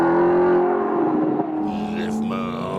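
An Alfa Romeo Disco Volante's engine and exhaust give a loud, smooth, deep drone with a steady tone that rises slightly as the car accelerates, with a voice speaking over it.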